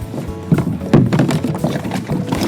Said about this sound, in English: And then once I sit in, I can push off and use the oar, the paddle, to paddle away.